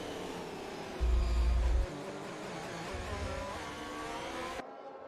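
Formula 1 cars race in F1 2021 at the Portuguese Grand Prix, with a Ferrari going through turn 12. Engine notes rise and fall steadily at moderate distance, and two short low rumbles come through before the sound cuts off abruptly near the end.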